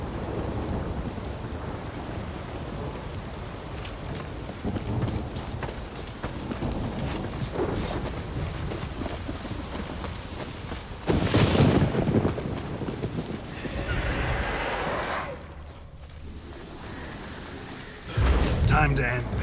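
Steady rain pours throughout a thunderstorm in the video game The Witcher 3: Wild Hunt, with loud rumbling thunder rolling in partway through.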